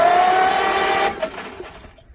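A 1955 Farmall 300 RC tractor that sat unused for 14 years cranks over on its battery, a loud close whirring starter drone with a thin whine that trails off into faint sputters.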